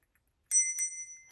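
A small ornamental Christmas bell rings twice in close succession, bright metallic strikes that ring out and fade, close and alone after a moment of silence.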